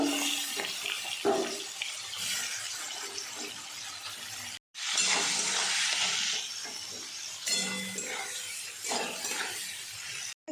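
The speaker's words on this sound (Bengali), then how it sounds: "চিংড়ি মাছটা ভেজে নেব" A loud, continuous hiss of prawns frying in hot oil, swelling and easing, broken by a brief silent cut, with clattering in the background.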